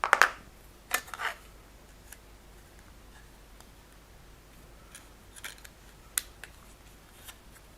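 Plastic parts of a tiny Bandai Millennium Falcon model kit being trimmed, heard as a few crisp snips near the start, then sparse faint clicks and ticks with long quiet gaps.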